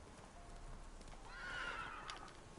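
Horse in The Witcher 3 whinnying over a steady background of hooves and ambience, the whinny rising midway and fairly faint overall, with no talk.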